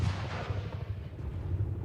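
A rumbling explosion sound effect, heavy and booming with a sustained low roar that churns through the whole stretch and drowns out any talk.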